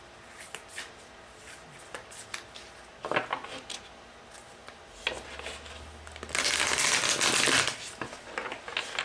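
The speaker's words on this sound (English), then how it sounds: "let's go ahead and shuffle for your oracle card" Oracle cards are shuffled by hand, soft scattered taps that end in a louder riffling burst near the end, quiet and close with no talking.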